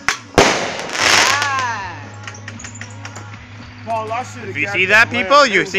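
Fireworks burst at an outdoor display, a sharp loud bang followed by crackling and whistling streaks, with people talking and cheering over the bursts throughout.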